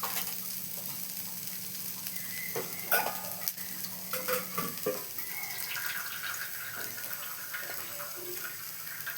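Food sautéing in a pan ahead of adding tomatoes, giving a steady soft sizzle with scattered stirring clatters and clinks, close and moderately quiet, without voices.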